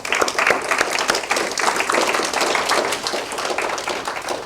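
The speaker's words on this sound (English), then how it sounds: "can my fellow patients give our partners and our families, all our helpers, a smashing thank you applause" Patients applauding to thank their partners, families and helpers at a cancer immunotherapy science event: dense, steady clapping from a large crowd, loud and continuous throughout.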